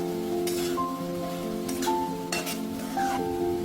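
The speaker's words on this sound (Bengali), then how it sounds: "একটু নেড়ে নিলাম যাতে নিচটা ধরে না যায়" Potatoes and banana flower curry in a frying pan are stirred, a steady close sizzle with intermittent scraping strokes of the spoon, no talking.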